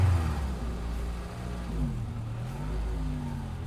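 A car engine revs up as the gas pedal is pressed, its pitch rising and falling steadily through a few seconds of close, continuous running.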